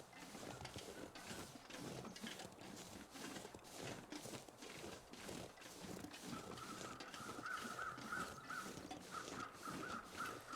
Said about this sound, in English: Just as you walk across the paw prints of the bear, you hear the crows.